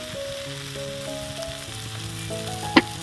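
Ginger, green chili and tomato frying in a pan with added coriander and Kashmiri chili powders, a steady close sizzle running throughout with a brief sharp clink near the end.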